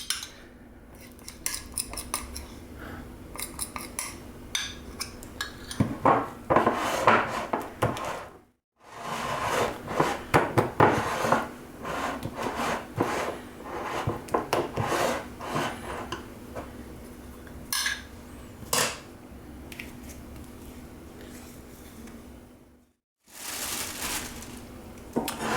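A spoon or whisk mixing a cream in a bowl, busy clinking and scraping against the sides in bursts with two brief silent pauses, close and moderately loud, no voices.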